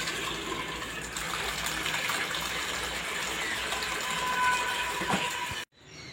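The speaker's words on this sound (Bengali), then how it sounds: "তো চালটা ভালো করে ধুয়ে নিই" Rice being washed by hand in very cold tank water: a continuous gushing, splashing stream with sloshing and clatter, fairly close, that stops abruptly near the end.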